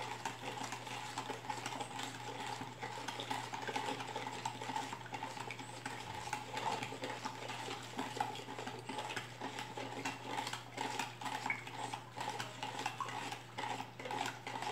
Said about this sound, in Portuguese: Vou misturar aqui bem, tentar dissolver bem.